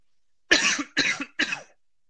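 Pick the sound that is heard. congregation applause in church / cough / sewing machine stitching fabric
cough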